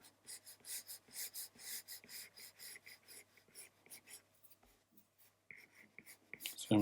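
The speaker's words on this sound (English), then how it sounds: "So I'm just drawing an oval." A digital pencil scratches across a drawing tablet while someone sketches a loose oval, making a series of soft, rhythmic rasping strokes that come close and quiet, with brief pauses between.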